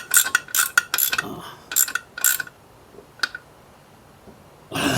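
Rapid ratchet clicking in short bursts while a distributor cap is tightened on a 1941 Chrysler flathead coupe engine, with several quick metallic runs, a single sharp click near the end, and a final louder burst.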